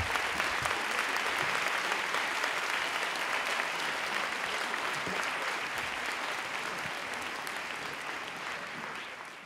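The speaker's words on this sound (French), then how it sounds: "Aymeric Caron, merci de l'applaudir." A conference audience gives sustained applause at a talk on animal liberation, a dense and even wash of many hands clapping for nearly ten seconds that fades slightly toward the end.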